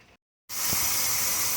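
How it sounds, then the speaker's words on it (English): Steam hisses steadily from the vent of a T-Fal pressure canner processing venison, a loud, continuous broadband rush that starts abruptly after a brief quiet gap and holds constant to the end. "I have a steady flow of steam going."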